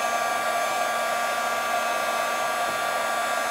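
A heat tool blows a steady, loud whir while melting embossing powder for a resist effect, a constant hair-dryer-like roar with no pauses and no voices.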